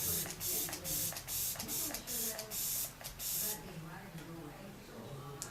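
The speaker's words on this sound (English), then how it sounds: "I'm gonna finish this look off with the Glam Glow Setter Setting Spray" A run of quick makeup setting spray bursts, about ten short hissing pumps in a rhythm, followed by a quieter stretch with faint voice-like sounds.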